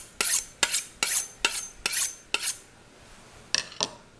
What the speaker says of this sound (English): We're going to give our knife a quick run over